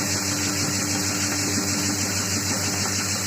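A homemade feed mixer runs with a steady, droning mechanical hum and constant vibration, loud and unbroken for the whole stretch with no voices.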